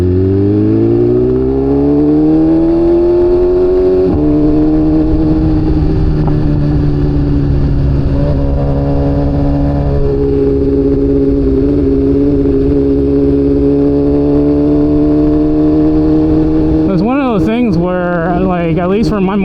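BMW S1000RR sport motorcycle ridden on winding curves, its engine droning loud and close with rising and falling pitch as it holds revs, then sharp revving swells near the end.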